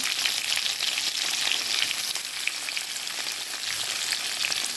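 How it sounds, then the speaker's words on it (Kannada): Onion and tomato fry in a pan with curry leaves for a cabbage and egg palya, giving a continuous, even, close sizzling hiss throughout with no voices and only faint hints of movement. "ಚೆನ್ನಾಗಿ ಫ್ರೈ ಮಾಡುವ ಸ್ವಲ್ಪ ಹೊತ್ತು ಫ್ರೈ ಆಗಲಿದೆ ಇದು"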